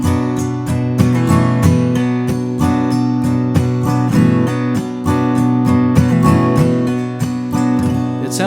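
An acoustic guitar plays a campfire-style version of a song intro, steady rhythmic strummed chords with percussive muted hits, close and loud with no voice.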